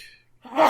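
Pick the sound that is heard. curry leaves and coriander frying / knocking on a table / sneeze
sneeze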